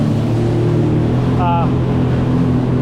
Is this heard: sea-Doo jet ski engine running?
yes